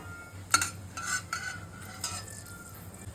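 A utensil stirs whole spices in hot mustard oil in a pan, giving a few soft, close scraping and clinking strokes over a faint sizzle.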